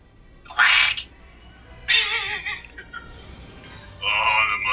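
A creature in the video game Resident Evil 6 lets out three loud, harsh, squealing quack-like cries, each about half a second long, separated by quiet gaps with low rumbling game ambience beneath.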